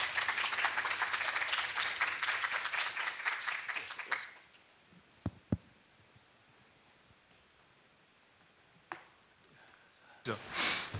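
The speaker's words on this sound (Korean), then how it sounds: "박수로 환영하여 주시기 바랍니다." Audience applause at a graduate school entrance ceremony, a dense roomful of clapping that swells for about four seconds and then drops off, leaving a quiet hall with a few isolated sounds and a brief burst near the end.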